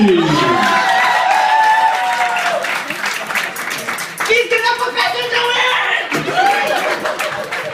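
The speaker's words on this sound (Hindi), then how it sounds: "आप सबकी भरपूर तालियां अकबर चौधरी।" A lively audience bursts into applause, with loud steady clapping mixed with shouts, cheers and chatter. It dips briefly around the middle, then surges again.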